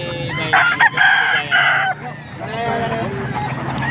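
Chickens and a rooster at a chicken market in Angeles, Pampanga: a loud, close crow with strained rising calls in the first half, then clucking and murmuring background noise.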